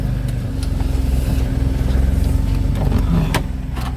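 Car engine idling and rumbling steadily up close as the vehicle rolls into a shed at a racetrack, low drone holding throughout with a few sharp knocks near the end.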